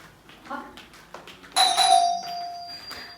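An electronic doorbell chimes once, ringing out clearly and lingering, after a few soft knocks and brief muffled voice.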